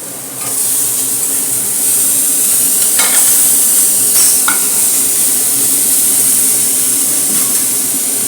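Nutrela soya chunks frying in a pan as tomatoes are added, giving a steady loud sizzle with a bright hiss throughout and a few faint scraping stirs, no talking.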